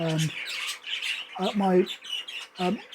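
A small cobalt budgerigar squawks and chatters in several harsh, close bursts, with brief gaps between calls.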